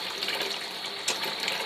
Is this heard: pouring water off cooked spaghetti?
yes